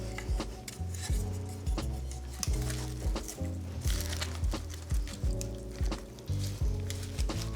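A spring antipasto salad is tossed in a bowl, giving steady wet squishing and light clinking strokes that repeat in an even rhythm, close and fairly loud throughout.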